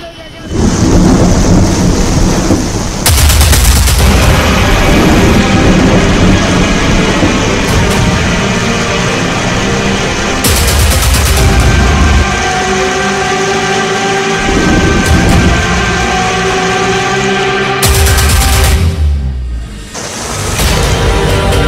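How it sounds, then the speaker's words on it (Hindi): Heavy rain and thunder in Mumbai, a loud, continuous roar of downpour with deep rumbling bursts rising and falling throughout, steady and dense from start to finish. "मुंबई में तेज बारिश से फिलहाल हालात बिगड़े हुए नजर आ रहे हैं।"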